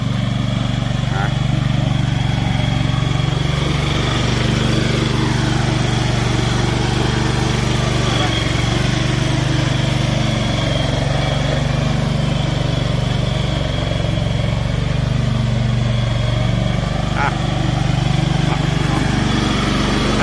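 A TCM wheel loader with a Mitsubishi four-stroke gasoline engine runs at a steady, loud idle throughout, its low drone close and unbroken, with a few faint knocks and a voice speaking over it.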